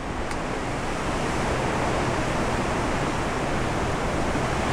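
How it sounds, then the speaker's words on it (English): Strong wind and rough ocean waves on the open deck of the Disney Magic cruise ship, a loud, steady roar of broadband noise with no talk. "A lot of waves today, a lot of white caps out there."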